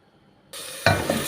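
Chopped onions drop into hot oil in a pan, a sudden loud sizzle that bursts up after a moment of quiet and then holds as a close, steady frying hiss.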